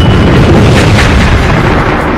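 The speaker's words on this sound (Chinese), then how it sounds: "轰鸣巨响，两股恐怖的魂力碰撞在一起" A huge booming explosion crashes through an audio drama as two terrifying soul powers collide, a dense, loud, continuous roar with no voices over it.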